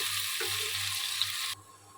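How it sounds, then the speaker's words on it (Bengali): Chopped onions frying in hot oil, browning for a koi fish curry: a steady, close broadband sizzle that cuts off sharply near the end, leaving a quieter hiss. "এই যে দেখুন পেঁয়াজটি বাদামি কালার হয়ে ভাজা গিয়েছে"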